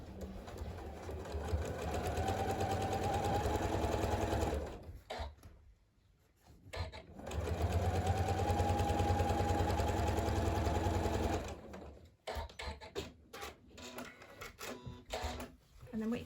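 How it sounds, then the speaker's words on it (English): A sewing machine stitches a 1/4 inch seam along the short edge, joining lining to outer fabric for a Christmas cracker, running steadily in two long bursts separated by a pause, then short stop-start runs at the end. "sew along the short edge, sew the lining to the outer fabric"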